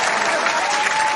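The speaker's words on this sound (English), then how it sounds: "Round of applause." A brief burst of dense clapping during a basketball podcast, steady and fairly loud, with no talk over it.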